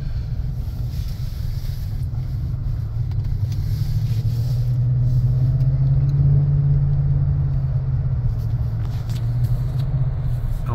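A car engine hums at a low, steady pitch while driving, rising slightly midway as it accelerates, with road rumble and wind noise throughout.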